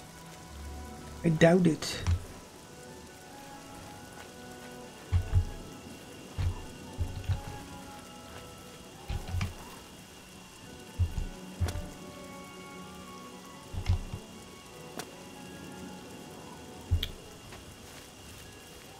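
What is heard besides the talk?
rain falling in the video game Oblivion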